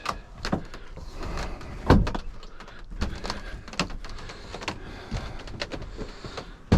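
An Aliner folding camper's side wall is unlatched and lowered, giving a sequence of clunks, rattles and knocks with a louder thud near the two-second mark, close by and with no talking.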